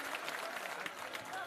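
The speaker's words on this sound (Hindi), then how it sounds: "एक बार जोरदार ताली इनके लिए बजाइए, श्री आनंद मिश्रा जी के लिए।" A crowd at a Jan Suraaj Holi Milan gathering in Bihar applauds Anand Mishra with dense, steady clapping, and voices mix into the noise.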